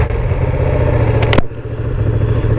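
Ducati Panigale V2 motorcycle engine rumbling loud and close at the start of a test ride, a steady low throb with a brief clatter and a momentary dip before the idle resumes.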